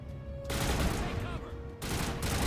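Enemy gunfire rattles through a Mass Effect firefight, dense overlapping shots and bursts filling the space with steady loud intensity, briefly dipping before surging again.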